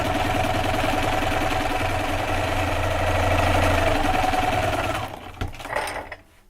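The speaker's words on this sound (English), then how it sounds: "I'm going to go ahead and sew these rows together" A sewing machine runs steadily as it stitches quilt block rows together, a close rapid mechanical whir that stops about three-quarters through, leaving a few handling sounds.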